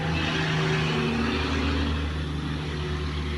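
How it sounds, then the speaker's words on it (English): Steady low engine rumble of an 18-wheeler semi truck passing nearby, with a constant droning hum and broad road noise throughout. "There's a 18-wheeler going by, so it's making a little loud."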